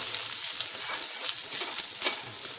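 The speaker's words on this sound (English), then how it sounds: "You're going to hear that lovely sound that I love so much. Sizzle, sizzle, sizzle." Brown rice and vegetables sizzle in a pan with soy sauce, a close, steady hiss and crackle that gently swells and fades throughout.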